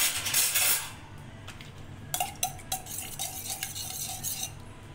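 A spoon scrapes and clinks against a bowl while yogurt is mixed into finely chopped tomato and onion for chicken biryani. The clattering strokes come close and uneven over a faint background hum.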